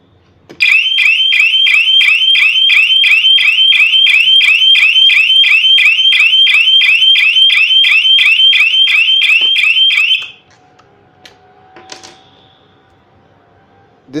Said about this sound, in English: there will be a powerful alarm that will go on